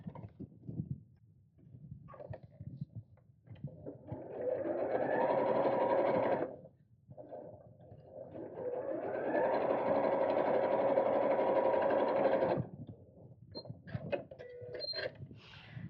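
Sewing machine stitching close to the edge of a fabric pocket on a purse organiser craft bag, two sustained runs of steady whirring separated by a short pause, with handling clicks before, between and after.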